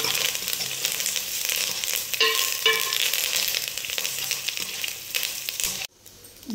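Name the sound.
green chillies and curry leaves frying in oil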